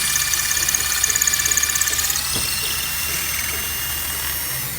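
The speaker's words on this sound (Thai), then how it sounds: "อันนี้ปูนอย่างแข็งนะคะ ที่สมัยก่อนพวกอิฐ มวลแดงเลยนะคะ เจาะเข้าเลยนะคะ" A 36V cordless battery drill bores into hard old red-brick masonry, giving a steady close whine with a rapid rattling pulse that eases midway.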